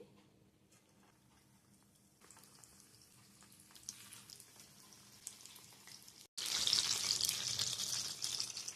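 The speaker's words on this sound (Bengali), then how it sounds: "এবার কিন্তু আরেকবার ফ্রাই করার জন্য দিয়ে দেবো গরম তেলে" Tomatoes dropped into hot oil for a second fry, quiet at first, then a sudden loud, close, steady sizzle in the last seconds.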